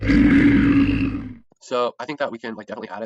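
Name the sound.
alien snake roar sound effect played back in Blender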